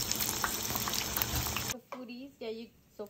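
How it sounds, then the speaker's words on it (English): Pork belly pieces fry in hot oil in an old pot, a dense crackling sizzle for the first half; it stops abruptly, and a person then speaks in short phrases over near silence. "I'm going to let that come up to a nice fry now"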